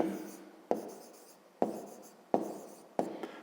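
Pen strokes on paper while a fifth-grade geometry solution is written down, four distinct scratchy bursts at a steady pace, each starting sharply and trailing off, close and fairly quiet.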